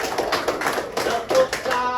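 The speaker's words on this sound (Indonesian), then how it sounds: "Ya, tepuk tangan untuk Arlan." A primary school classroom claps for a student, a loose, close burst of children's hands beating in an uneven rhythm that swells and dips over a couple of seconds, with faint voices mixed in.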